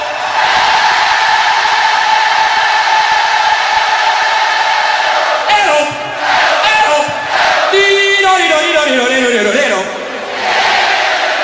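A massive rock concert crowd roars in a continuous swell of cheering, and partway through a rising and falling sung vocal line cuts through the din.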